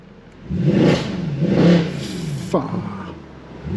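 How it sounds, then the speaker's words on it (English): A Mercedes-AMG C63's deep V8 exhaust revs twice in loud surging bursts, then settles to a rumbling idle with a brief clatter. "Listen to this exhaust."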